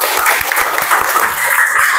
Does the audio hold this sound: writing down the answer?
no